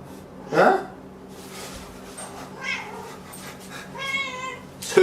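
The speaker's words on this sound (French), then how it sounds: "Qu'est-ce qu'il y a, le chat?" A house cat meows several times in short, clear cries near the microphone, with people talking around it.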